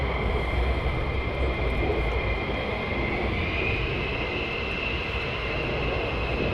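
Fighter jets at the RAF Lakenheath airbase make a loud, steady, broadband engine roar with a sustained whine, heard continuously from a short distance.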